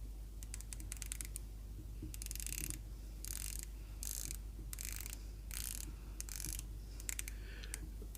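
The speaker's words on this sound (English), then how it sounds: "We have a 120 click unidirectional dive time bezel." An Orient Kano dive watch's unidirectional 120-click bezel is turned in short bursts, giving crisp, close ratcheting clicks separated by quiet pauses.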